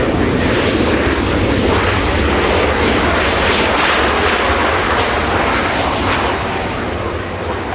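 A Delta heavy airliner taking off from runway 24 left at Los Angeles International Airport, a loud continuous jet engine roar filling the whole stretch, close and steady, beginning to ease slightly at the end.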